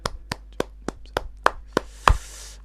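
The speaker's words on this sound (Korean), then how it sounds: "우리 다 같이 주님께 감사와 박수 올립시다." Church congregation clapping together during a New Year's Sunday sermon: steady, evenly spaced claps in unison, about three per second, ending in a louder final clap and a brief cheer-like swell.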